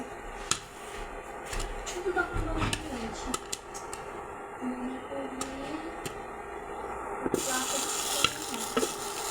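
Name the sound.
popcorn kernels popping in oil in a pot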